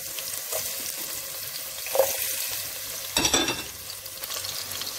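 Onions fry in a pan for bell pepper jollof rice, a soft steady sizzle with a few clinks and scrapes of stirring, no voices.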